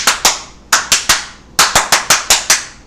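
Bursts of hand clapping from a crowd at a political gathering with the South Korean president, in short irregular volleys of sharp, loud claps with pauses between groups and no talking.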